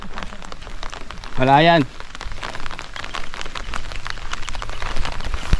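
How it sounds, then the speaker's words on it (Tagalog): Rain pattering steadily on an umbrella during a mountain hike on Mt. Kulago in Bukidnon, a soft continuous patter with a brief burst of nearby noise and a person speaking. "Inulan na tayo ngayon."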